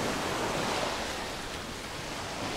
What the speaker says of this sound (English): we've got some beach down here.